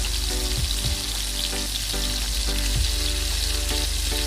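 Fried chicken pieces and bamboo shoots being stirred in a hot pan: a dense, loud, continuous sizzle with occasional scraping strokes of a spatula.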